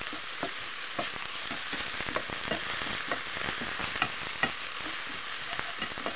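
Turkey meat sizzles in a hot pan for a bitter melon stir-fry with tomatoes and eggs, a steady close frying hiss broken by frequent light clicks and scrapes of stirring.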